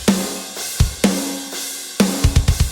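Mixed MIDI drum samples with a punchy, full sound play a groove of kick and snare hits over bright cymbals, ending in a quick fill, with no talking.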